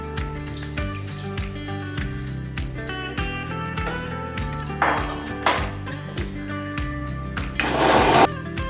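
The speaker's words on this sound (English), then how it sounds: "Let's churn them in a blender." A blender motor whirs with a choppy, churning drone while blending cucumber soup, punctuated by clinks and a few louder surges of grinding near the end.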